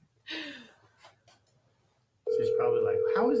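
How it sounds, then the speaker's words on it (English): A phone on speakerphone dials out, then a steady ringback tone sounds loudly and continuously for over a second, with a sigh and short vocal sounds before it and faint voices over the tone. "I'm calling Deb right now. Let me put her on speaker"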